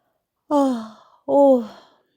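A narrator's voice imitates a yawn in two drawn-out, breathy, descending vocal sighs, for a flower waking at sunrise in a Little Prince reading.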